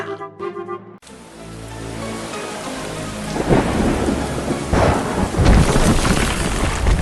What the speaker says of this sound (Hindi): अंधेरी और तूफानी रात में प्रकृति ने अपना रौद्र रूप दिखाया है।